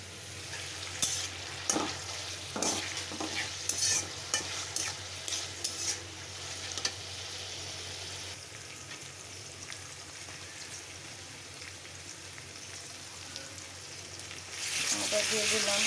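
Ginger frying in a pan sizzles steadily while a spatula scrapes and stirs in rhythmic strokes, then the sizzle carries on alone and swells louder near the end.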